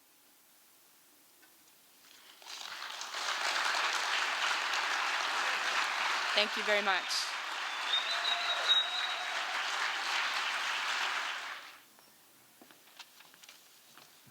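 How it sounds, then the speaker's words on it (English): Theater audience applauding after a poetry reading at a fisher poets gathering, a steady wash of clapping rising in at about two seconds and cutting off near twelve, with brief spoken thanks mid-way. "Let's give her a big round of applause."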